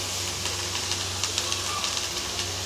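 Spices and salt are stir-fried in a pan with a steady close sizzle and hiss, while faint pops and crackles rise from the oil.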